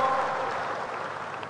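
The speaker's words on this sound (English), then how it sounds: "Clap your hands for them, church." A church congregation claps their hands during a service, a steady dense wash of applause throughout the short moment, fairly close and moderately loud, with no voices standing out.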